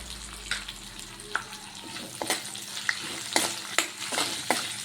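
Green chillies, curry leaves, ginger and turmeric being stirred as they fry in a pan for lemon rice, steady sizzling with repeated short scraping strokes of a spoon.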